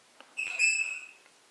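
A pet grey parrot indoors gives a single clear whistled call of under a second, moderately close and alone against a quiet room.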